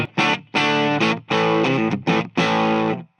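A black 2019 Gibson Les Paul Classic electric guitar plays through its bridge pickup with heavy distortion. Six loud, sustained chord hits ring out in a choppy rhythm, with short gaps between them.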